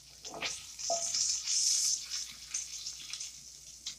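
Sausages frying in a skillet while making a seafood gumbo with roux: a quiet, close hiss of sizzling grease with small pops and soft stirring scrapes, steady and low throughout.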